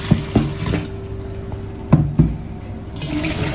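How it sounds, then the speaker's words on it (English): Water poured into a bowl of sương sâm herb leaves for Vietnamese herbal jelly: a few splashy gurgling pours and sloshes close up, with quieter gaps between, no voices. "Put the leaves into the bowl like so, and then we just pour in a little bit of water."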